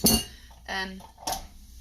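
Three sharp clinks of a spoon against a bowl and chaffle maker as batter is scooped, spaced in a loose rhythm, close and moderately loud, with faint background noise between them.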